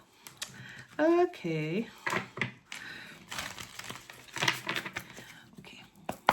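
Tarot cards are shuffled in quick papery riffles and soft taps, close and quiet, with a person whispering and talking briefly between the card sounds.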